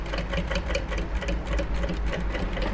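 A sewing machine stitches down the folded, tucked edge of a bias strip, its rapid needle rhythm running steadily and close up, loud and continuous throughout with no talking.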